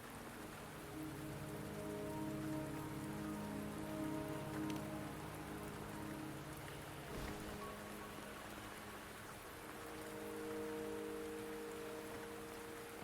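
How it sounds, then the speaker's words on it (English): Steady rain falling in the video game Wuthering Waves, a constant close hiss of drops on surfaces lasting throughout with a soft musical drone beneath and no talking. "The rain won't last much longer."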